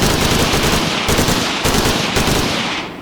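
Rapid automatic gunfire hammers at armored enemies in the Redwave 2 video game, a dense, loud, continuous burst of shots with brief stutters, fading at the very end.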